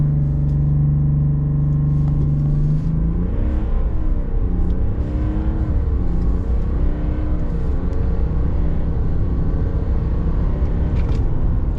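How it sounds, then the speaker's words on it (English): A 2026 Chevrolet Silverado with the 3.0T Duramax diesel holds a steady high-revving whine on a boosted launch, then pulls away hard, its engine note climbing and shifting through gears, loud and close. "Baby Duramax, boosted launch."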